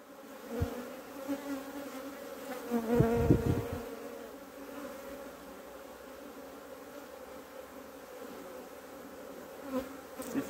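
Honeybees drone steadily at an open hive colony that sits low, a dense buzzing swarm, close and continuous for the whole stretch, swelling a little at moments.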